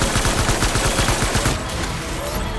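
Rapid automatic gunfire in the Death Stranding video game, a dense burst of sharp repeated shots for about a second and a half before easing into a lower rumbling tail, loud and close.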